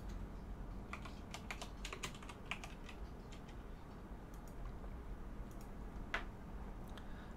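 Computer keyboard typing an address, quiet bursts of light key clicks with short pauses between runs, heard alone in a still room.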